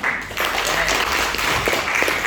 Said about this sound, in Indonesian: Boleh tepuk tangannya lagi nggak?